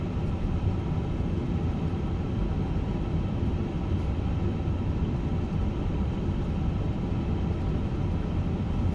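An IniBuilds A350 airliner climbing after takeoff in Microsoft Flight Simulator 2024, a steady, dense low engine roar that holds constant throughout with no talk over it.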